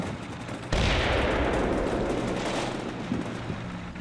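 Artillery fire in the Combat Mission: Black Sea video game during a US city fight, a sudden heavy blast that rolls into a long, dense rumble of distant gunfire and explosions, fading slowly over several seconds with no voices.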